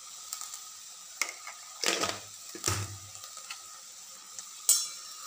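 Fenugreek leaves sautéing in a pan, a faint soft sizzle broken by a few louder scraping stirs of a spatula and sharp clinks, quiet and sparse.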